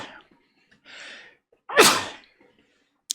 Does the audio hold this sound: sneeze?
yes